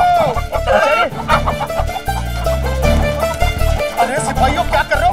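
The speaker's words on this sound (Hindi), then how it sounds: "मुर्गी हमारे पीछे पड़ गए, अरे हमारा पीछा छोड़ दे।" Hen clucking and squawking while chasing people in a comic scene from a Tenali Rama historical drama episode, loud and continuous over music and voices.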